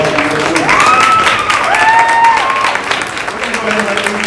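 Audience applause at a goat show for the kids in a heavyweight-division class, a steady wash of clapping filling the space while a voice carries over it and a few tonal sweeps drift through.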